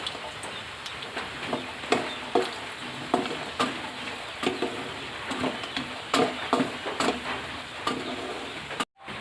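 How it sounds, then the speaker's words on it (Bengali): Peanuts and cashews fry in hot oil in a pan with a continuous sizzle, broken by regular scraping stirs and light clicks of the nuts shifting, close and steady before a sudden cut at the end. "চিনাবাদাম দিয়ে দিচ্ছি, লাল লাল করে একটু ভেজে নেব"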